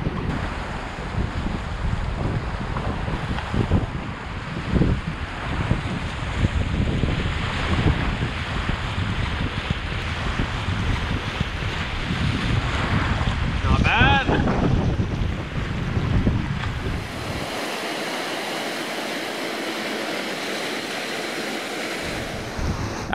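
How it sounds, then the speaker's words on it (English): Whitewater rapids on the Temagami River roar steadily throughout, loud and turbulent, mixed with heavy wind buffeting against the microphone. "now it's back to back rapids"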